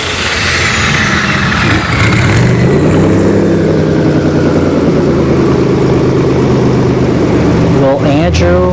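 Tesla Plaid and a V6 Turbo car launching side by side at a drag strip, a loud continuous engine roar and rising whine that builds steadily with crowd and commentary noise over it throughout.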